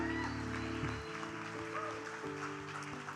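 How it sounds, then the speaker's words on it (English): A church congregation applauds to welcome guests at a Sunday morning gathering, a soft continuous patter of clapping under sustained organ or keyboard chords and background music. "We want to give you a very special round of applause"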